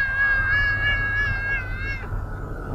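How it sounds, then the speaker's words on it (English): A loud, drawn-out cat meow rings close and sustained in the video game Thirty Flights of Loving, one long wavering cry that drops off near the end over a low background hum. "What the hell is wrong with that cat?"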